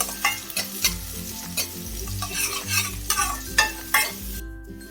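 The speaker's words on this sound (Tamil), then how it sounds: "அந்த வெங்காயத்தை இதில் ஆட் பண்ணிடலாம். வெங்காயம் கொஞ்சம் நம்ம வதங்கட்டும்." Thinly sliced onions sautéing in a pan for Tamil egg curry, a steady close sizzle broken by repeated scraping stirs of a spoon against the pan, with no talking.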